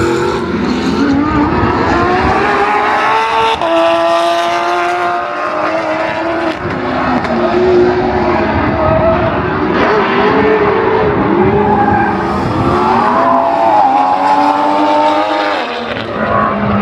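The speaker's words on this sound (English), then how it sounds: "Now they're racing much faster." Race cars roaring past at Circuit of the Americas during a time attack race day, loud continuous engine wail with rising and falling pitch as several cars pass, no voices.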